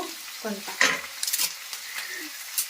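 Onion, cumin and leaves hit hot oil in a pan with a bright sizzle, while a spoon stirs and scrapes through a few times, close up and steady over the frying hiss.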